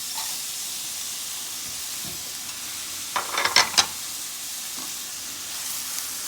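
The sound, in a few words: garlic and frozen green peas frying in a pan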